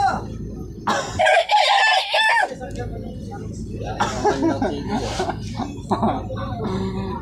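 A person imitates a chicken, clucking and crowing in short bursts, with a gap of silence in between and voices continuing afterward.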